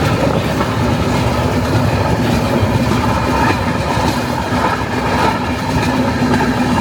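A train arriving at Kamakhya station rumbles steadily and loudly, its wheels clattering on the rails with a continuous low roar and no voices.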